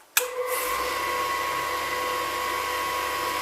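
A grinding machine switches on and runs steadily for an 8mm drill being ground into a counterbore, with its pilot shaped at the front. Its loud, even whine holds unbroken with no voices.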